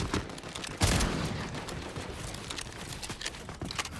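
Another team's gunfire rattles through a video game match, a dense run of overlapping shots lasting the whole stretch, with one stronger crack early on and no talk over it.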